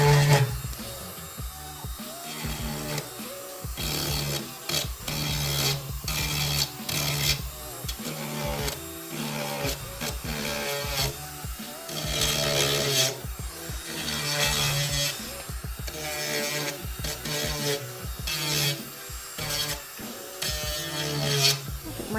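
Power sanding disc working the wooden edge of a DIY blanket chest, a rasping, buzzing grind that comes in repeated passes with short pauses and shifts in pitch over about twenty seconds.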